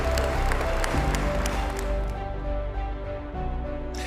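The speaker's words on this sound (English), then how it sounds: "Give him a big round of applause because he deserves it" An audience applauds to welcome a speaker to the stage, a steady dense wash of clapping that continues for several seconds with a low hum underneath.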